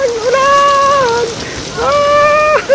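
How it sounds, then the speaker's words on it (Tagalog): Heavy rain pours steadily in a dense hiss on a roof at the start of the May rains, while a voice calls out in long drawn-out tones over it. "Ang lakas ng ulan!"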